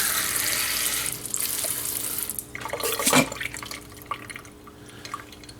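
Tap water running into a sink to rinse a fountain pen, a close stream that fades, then gushes and splashes in a brief louder burst before trailing off into drips.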